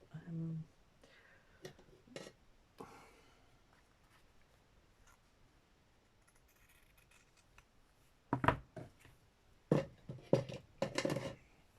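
Quiet snips of scissors come in short bursts, with a cluster of sharper cuts near the end; a voice murmurs faintly in between.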